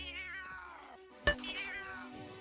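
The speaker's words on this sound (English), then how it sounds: "Beethoven's cat clearly wants Dirk dead too" A cartoon cat in the Dragon's Lair 2 Time Warp video game meows and caterwauls in long wavering cries, with a sharp thud midway, close and clear with no talk.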